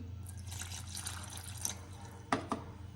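Water trickles quietly into a bowl of semolina batter for a few seconds, followed by a couple of soft clinks and drips.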